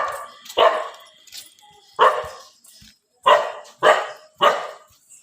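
A dog barks at a temple in the dark, giving about five sharp, loud barks at uneven intervals with brief quiet gaps between them.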